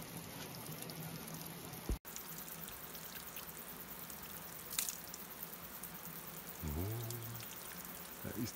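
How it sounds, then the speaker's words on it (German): A small waterfall in northern New Zealand pours and trickles steadily as a faint, continuous wash of water, with a brief knock and a few short noises breaking in. "Hübscher kleiner Wasserfall."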